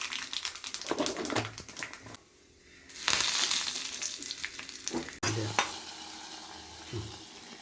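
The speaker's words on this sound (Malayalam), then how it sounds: "ഉലുവ, കടുക് മുതലായവ കറിവേപ്പിലയും പൊട്ടിച്ചിട്ട വെളിച്ചെണ്ണയിൽ വറുത്ത്" Fenugreek, mustard seeds and curry leaves crackle and sizzle in hot coconut oil for a ripe mango curry, with bursts of spluttering and stirring close by, a brief quieter lull, then another loud burst of frying.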